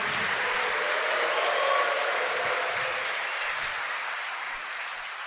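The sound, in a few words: congregation applauding for mothers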